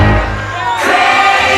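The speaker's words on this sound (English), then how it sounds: "the crowd goes nuts" A San Antonio wrestling arena crowd roars loudly for a short burst, a rowdy wall of cheering and whoops that swells near the end.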